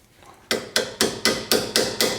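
Seven sharp hammer blows at an even pace, close and alone after a quiet start, knocking a brake line clip into its collar on the shock absorber knuckle of a Mitsubishi Lancer CE during a suspension change.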